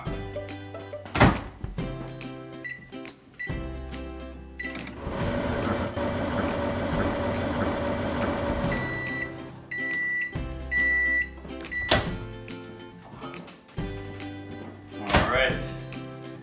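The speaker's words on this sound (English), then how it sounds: "We're going to go put this in the microwave for 30 seconds." A microwave oven heats milk for 30 seconds, a steady hum running for several seconds between clunks of the door and clicks and beeps of the controls, close up and with no talk.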